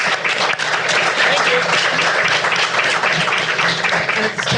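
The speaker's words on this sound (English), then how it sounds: "please have a round of applause for our candidates who took time out of their night to come here" A crowd at a city council candidates forum applauds in a dense, sustained wash of clapping that holds steady throughout, with some voices mixed in underneath.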